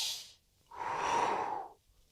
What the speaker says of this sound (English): And then with pursed lips, you exhale.